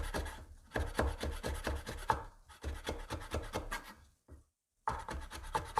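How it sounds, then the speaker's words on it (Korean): A knife cutting and paring orange peel for marmalade, trimming away the white pith: steady close rasping, scraping strokes in repeated bursts with short pauses, alone without talk. "하얀 부분은 칼로 돌려서 이렇게 깎아 주셔도 됩니다"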